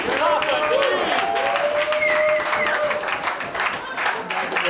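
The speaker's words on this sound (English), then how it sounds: "One more really huge raucous applause for Aaron Livingston and Big Papa." Live audience applause with cheering at a small venue for the performers Aaron Livingston and Big Papa, a dense clatter of many hands mixed with crowd voices and some tonal sounds, fairly loud and sustained.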